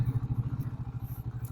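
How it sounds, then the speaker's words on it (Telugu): Triumph Speed T4 motorcycle engine running, a close, steady idle that throbs as a low rhythmic exhaust pulse at an even rate, with no talk over it. "సో ఒకసారి బైక్ అనేది స్టార్ట్ చేసి మీకు ఎగ్జాస్ట్ నోట్ అనేది వినిపిస్తాను."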